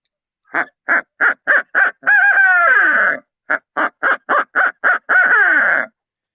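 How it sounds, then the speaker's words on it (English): A series of short hooting calls from a handheld owl call used for wild turkey hunting, then a long wavering descending whinny, repeated; loud and close, no voices. "Now this is an actual owl call that I bought."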